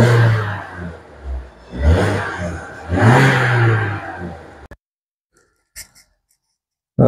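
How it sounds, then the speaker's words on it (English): A Vauxhall Corsa D engine with its stock air box is revved a couple of times, each rev rising and falling in a broad roar, then cutting to near silence with a few faint clicks. "we'll do a before sound of what the car sounds like before we put the cone filter on. Just give it a couple of revs."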